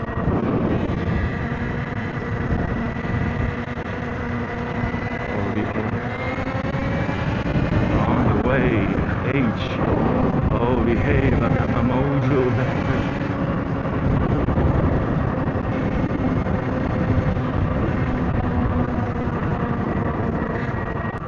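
A motorcycle engine running steadily as the rider holds and releases the clutch, a loud, continuous hum whose pitch rises and falls gently, with wind noise on the ride.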